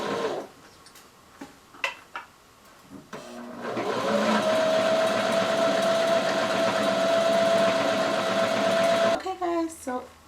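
A sewing machine stitches lace trim onto a cotton-style tank top: a few scattered clicks and taps, then a steady close whirring run of several seconds that stops abruptly.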